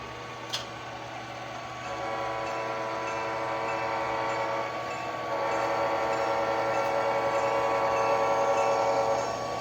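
HO scale model railroad train hauling a transfer with a Sacramento Northern engine, a continuous rolling rumble with high sustained squealing tones building louder in the second half, no voices.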